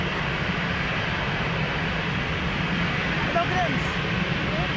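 Air Canada flight 810 touches down on runway 02 at Lisbon Airport, a steady, loud, broad jet roar lasting throughout, with a brief spoken remark over it.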